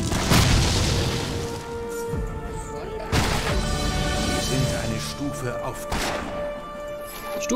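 Loud booming explosions in the video game Torchlight, with a big hit near the start and more impacts around three and six seconds, over constant busy game audio.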